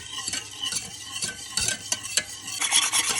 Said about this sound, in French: Verse la préparation dans une casserole et fais chauffer à feu doux tout en fouettant